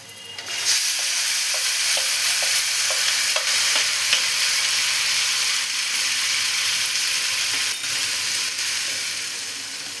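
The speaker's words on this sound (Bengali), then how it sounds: "এবার আমি চিকেনটাকে এর মধ্যে দিয়ে দেব। ম্যারিনেট করা চিকেনটা।" Marinated chicken sizzles in a pan with browned onions for pulao, a steady frying hiss broken by a run of rhythmic scraping clicks as it is stirred.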